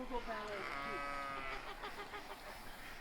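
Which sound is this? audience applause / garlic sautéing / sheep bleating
sheep bleating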